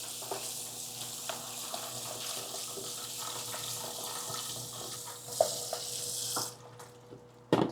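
Fruits and tomatoes rinsed in a colander under running tap water, a steady quiet hiss of flowing water with a few soft knocks and clatters near the end as the stream stops.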